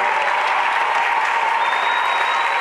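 A church congregation at an Easter celebration applauds in a dense, steady roar of clapping that carries through the whole clip, with a crowd murmuring faintly underneath.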